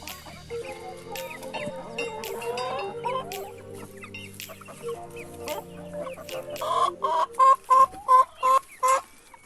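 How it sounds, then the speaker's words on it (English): Several chickens cluck and murmur while pecking at kitchen scraps, close by, ending in a run of loud, rhythmic clucks with sharp pecking sounds throughout. "I think the chickens are way happier getting all this delicious scraps."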